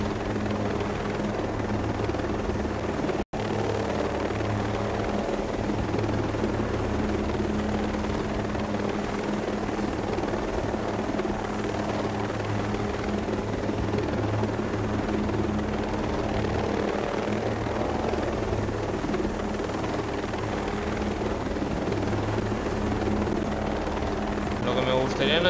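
Helicopter in flight in Ghost Recon Breakpoint, a steady close rotor and engine drone that runs unbroken for the whole stretch, with a person talking over it.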